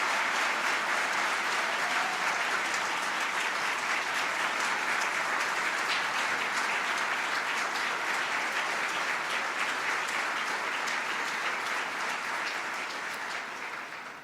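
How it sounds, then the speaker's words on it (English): Sustained audience applause fills a hall during a city State of the City address, a dense, steady clapping from a large crowd honoring the council president, fading slightly at the very end. "Let's give him a great big round of applause."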